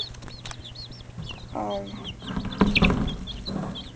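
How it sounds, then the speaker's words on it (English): Week-old baby chickens peep in a steady stream of high, thin chirps, close and fairly clear, with a brief hesitant voice murmuring partway through and some rustling and thumps underneath. "these are baby chickens, about a week old, I would say"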